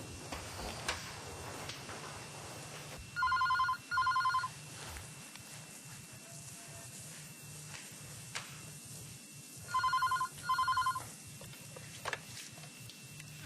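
A telephone rings in two separate double bursts several seconds apart, each a bright, trilling electronic ring that is fairly close and loud, with a short faint blip near the end and a quiet room hum between rings.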